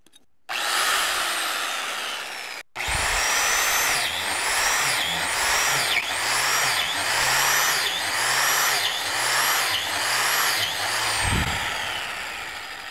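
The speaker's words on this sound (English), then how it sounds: "Angle grinder is fast, so I better put on eye protection." An angle grinder cuts into wood, running off a portable AFRI power station, with a steady close whine that rises and sags in repeated strokes as the disc bites and eases off, ending in a brief thump.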